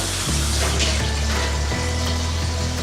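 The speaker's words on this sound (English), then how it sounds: "Pour water in it. A little bit of water." Tap water runs steadily into a bowl sitting in a kitchen sink, a loud, continuous splashing stream with a low filling drone and faint gurgles, heard up close with no talking.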